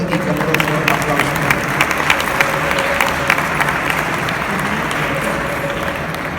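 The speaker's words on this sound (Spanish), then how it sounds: "También lo recibimos con un fuerte y caluroso aplauso." Warm applause from the audience at a panel on psychological violence in teaching welcomes a speaker, a steady patter of many hands with sharp individual claps standing out, lasting several seconds.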